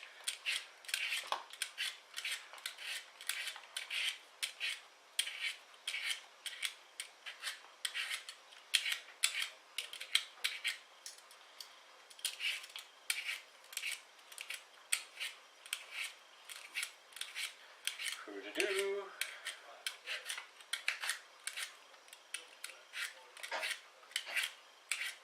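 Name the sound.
peeling a medium-sized potato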